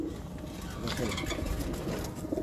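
Breeder pigeons of the kind called phullan wale coo nearby, several low throaty calls overlapping in a continuous murmur with faint chirps above.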